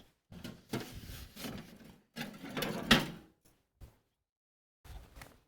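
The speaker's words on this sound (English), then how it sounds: "I'm getting a whisk. We gotta whisk this." Ingredients are whisked in a bowl in several short, scraping bursts of rapid rhythmic strokes, close by, separated by pauses and ending with a final brief round.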